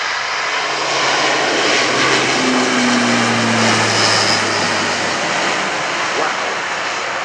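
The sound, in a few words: aircraft taking off at airshow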